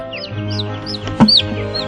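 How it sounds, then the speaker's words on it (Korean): Chickens on a Delaware poultry farm cluck and chirp in scattered short calls over a steady mechanical hum from the barn, with one louder, close call near the end. "한국 하림의 자회사인 앨런 하림이 병아리 사육을 위탁한 농장이다"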